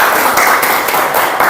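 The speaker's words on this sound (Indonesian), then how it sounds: "Oke, tepuk tangan untuk kita semua." A classroom of students gives a dense, loud round of applause during a science lesson, with faint rhythmic accents in the steady clapping.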